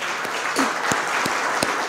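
A church congregation claps in applause during a Spanish-language service, a steady wash of many hands at moderate loudness, with a few sharper individual claps standing out.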